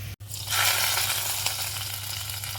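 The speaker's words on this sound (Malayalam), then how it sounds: "വെളിച്ചെണ്ണ ചൂടായി വരുമ്പോൾ നമുക്കിതിലോട്ട് ചുവന്നുള്ളി ചേർത്ത് കൊടുക്കാം." Shallots hit hot coconut oil with a sharp burst of frying, a loud, steady broadband sizzle that holds close and constant after a brief quiet start, with a faint low hum beneath.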